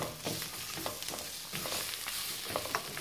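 Vegetables and onions sizzle and fry in a pan over high heat while being stirred, a close, soft crackling hiss with scattered scraping strokes of the spoon and no voices.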